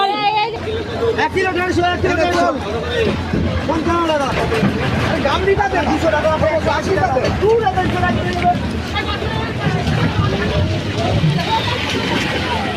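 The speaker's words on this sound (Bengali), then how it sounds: "ভিড় দেখো সকালবেলা।" Dense morning crowd at a riverside fish wholesale market stretched along both sides of a railway line, with continuous overlapping chatter and babble of many voices close by, loud and steady throughout.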